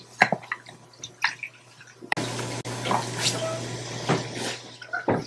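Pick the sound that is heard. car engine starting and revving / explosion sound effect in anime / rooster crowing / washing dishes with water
washing dishes with water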